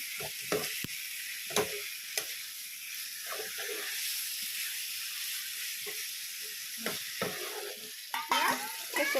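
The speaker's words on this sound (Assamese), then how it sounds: "মাংসখিনি ভালকৈ দি লৰাই দিলোঁ অকণমান।" Duck meat frying in a pan while being stirred, a continuous hissing sizzle broken by intermittent clacks and scrapes of a spatula against the metal.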